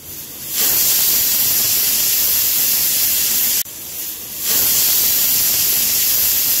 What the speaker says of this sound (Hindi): हमारे कुकर ने दो सीटी मार ली है